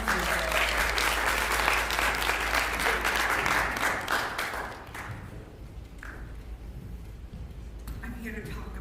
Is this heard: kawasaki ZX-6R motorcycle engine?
no